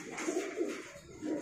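Pakistani teddy pigeons coo in soft, throaty rolling phrases, several overlapping calls close by and fairly quiet, with no talking.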